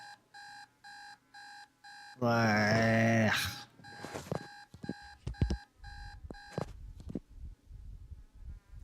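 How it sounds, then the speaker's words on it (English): An in-game alarm clock beeps in a steady series of short, evenly spaced electronic pulses, cut off by a loud burst of noise, followed by scattered clatter and knocks with a brief groan. "That was the alarm clock I had all through high school"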